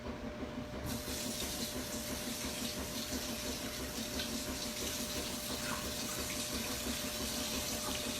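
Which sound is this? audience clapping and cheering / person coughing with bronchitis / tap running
tap running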